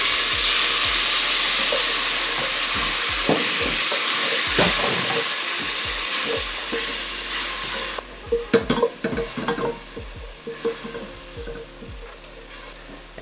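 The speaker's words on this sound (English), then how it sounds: "So deglaze the fond with red wine, or this is cassis wine." Red cassis wine hits a hot pan coated in beef fond and sizzles hard at first, then settles into a softer bubbling while a utensil scrapes and stirs the pan in quick strokes.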